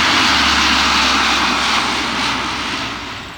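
A Royal New Zealand Air Force Lockheed C-130 Hercules, its four Allison turboprop engines delivering 4,900 horsepower, flies past at the Omaka air display with a loud, steady roar that eases slightly toward the end.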